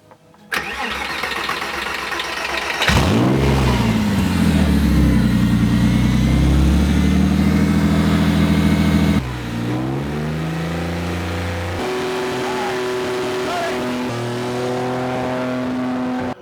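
A Porsche 911 Slantnose engine cranks and fires up, revs loudly for several seconds, then drops to a steady, rumbling idle.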